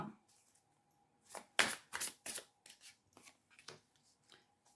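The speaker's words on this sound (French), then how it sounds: "Tac, petit tirage à 5 cartes." Five tarot cards are drawn from a deck, making a short run of crisp slides, flicks and soft snaps, close and quiet against a near-silent background, with no talking.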